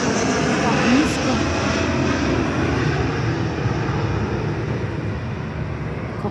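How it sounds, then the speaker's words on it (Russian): A passenger airplane passes low over a private-house neighborhood within Saint Petersburg, its engine drone loud, continuous and near, fading slightly by the end, with a voice heard over it. "Как низко самолетик пролетел."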